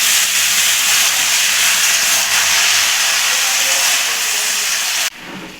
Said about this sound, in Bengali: ফোড়নটা আমার গরম হয়ে গেছে, এখন সবজিগুলো ঢেলে দেবো।